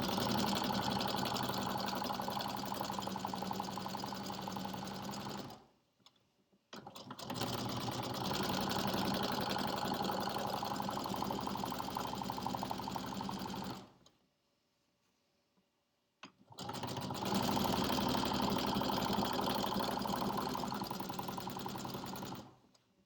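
A sewing machine back stitches a pillowcase in three loud, close runs of rapid whirring, separated by short pauses, the first gap broken by a brief mechanical clunk.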